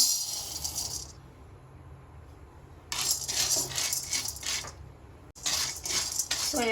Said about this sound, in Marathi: आता आपला मसूर पण भाजून झालाय सोयाबीन भाजून घेऊया